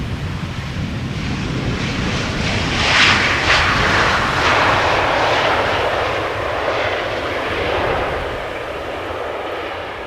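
Suparna Airlines aircraft arriving from China at Amsterdam Schiphol Airport, a sustained jet engine roar that swells around the middle and slowly eases off, moderately loud and continuous.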